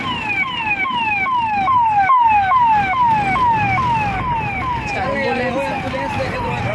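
An ambulance siren wails in a steady repeating sweep, loud and close, over road and traffic noise, and voices can be heard in the background.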